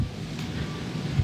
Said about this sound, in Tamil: காற்று வேற பலமாக அடிக்கிறதுனால நான் பேசுறது கேட்குமான்னு தெரில